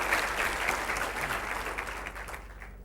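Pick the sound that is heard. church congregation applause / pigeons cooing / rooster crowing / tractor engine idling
church congregation applause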